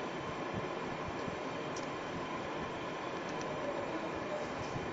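A BLDC motor on a development-board speed controller runs at around 1700 to 1800 RPM and climbing, a steady, faint, continuous whirring hum with dense broadband noise and no voices.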